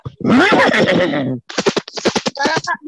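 A storyteller's voice imitates a horse neighing: one long, wavering whinny, then a quick run of short, rhythmic bursts like snorts or hoofbeats. It is loud and close, with no other sound.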